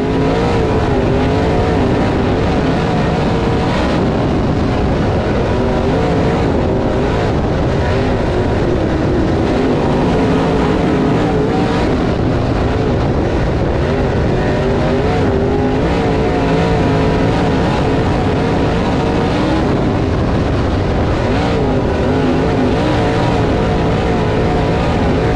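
Race cars in an HTF Series finale at Whynot roar around the track in a dense, continuous engine drone, loud and sustained throughout with rising and falling revs and no clear speech.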